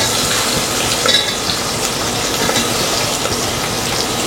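Onions fry in a pan with garlic, giving a loud, dense, steady hiss and crackle close by, with faint stirring and no voices.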